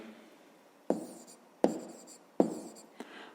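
A pen writes a math solution by hand on paper in four short bursts of scratching, each starting with a sharp tap and fading, close and fairly quiet.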